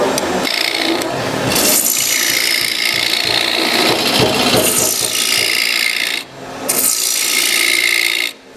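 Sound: carving out the inside of a wooden bowl

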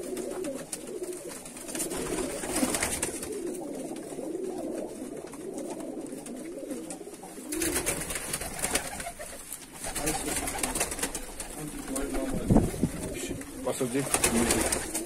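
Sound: tumbler pigeons cooing

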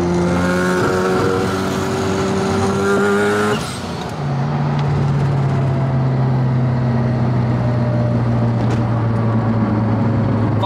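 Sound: Mazda RX-7 FD car driving, engine noises

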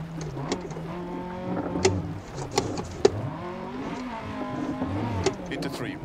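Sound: car wheel spin in the video game Dirt Rally 2.0

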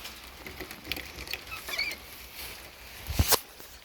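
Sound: rabbits eating hay

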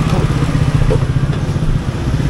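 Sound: Yamaha RXZ motorcycle with underbody racing exhaust, road test

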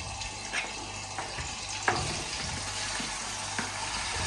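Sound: mutton sizzling as it is added to hot oil

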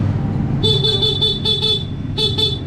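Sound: stock horn of Honda Click scooter honking

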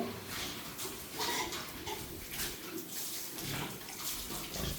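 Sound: pig being bathed with water

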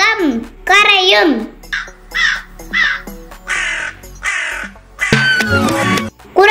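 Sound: crow cawing

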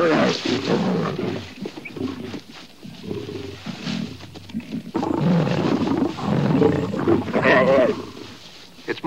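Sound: lions roaring and fighting over a lioness

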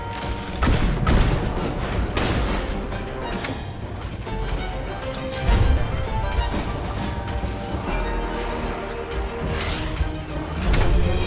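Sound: weapon shot fired in the video game Ironcast

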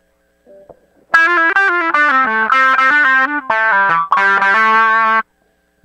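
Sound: Roland GR-100 guitar synthesizer with filter modulation on

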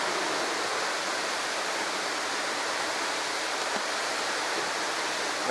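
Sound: Curug waterfall

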